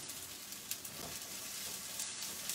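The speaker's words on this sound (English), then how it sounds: "So you have to fry it a little bit so that the raw smell of the garlic ginger paste till it is gone" Ginger garlic paste frying in a non-stick pan for a spiced chickpea curry gives a steady, dense sizzle heard close up, with a few faint stirring scrapes and no talk.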